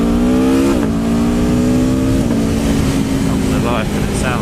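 A motorcycle engine, either a 2021 Yamaha MT-09 SP or a 2022 Aprilia Tuono V4 Factory, revs loudly and close with rising and falling pitch, the exhaust note swelling twice.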